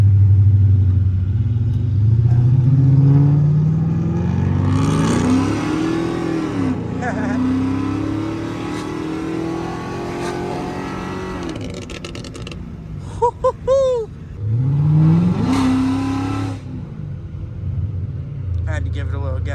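A 5.7L HEMI Chrysler 300C revs and accelerates away at a car show, with a rumbling engine note that swells and falls in pitch over several pulls while someone talks over it.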